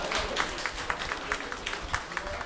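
Faint, scattered audience applause at a charity jazz concert hall, a steady patter of claps continuing for a couple of seconds beneath a soft room murmur.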